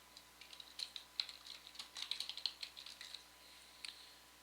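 Rapid, light typing on a computer keyboard as a name is entered into a form field, a quiet steady patter of keystrokes in short bursts with brief pauses, heard alone.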